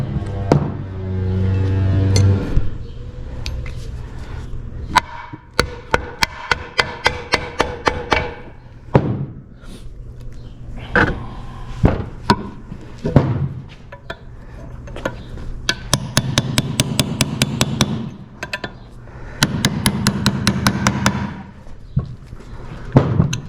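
Hammer blows driving a control arm bushing out of its arm at home: a scattered series of sharp metallic thumps and taps, some in quick bursts, with short pauses between strikes.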